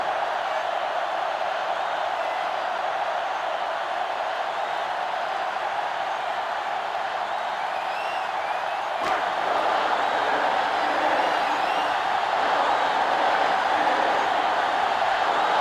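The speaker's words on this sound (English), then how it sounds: "This crowd is almost shaking the stadium" Stadium crowd in a college football video game roars in a steady, dense wall of noise, swelling slightly louder partway through, with no voices standing out.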